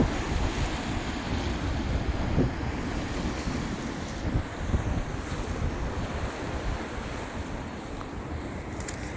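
Rough sea surf crashing continuously against the shore at high tide, loud and steady with strong wind buffeting the microphone throughout.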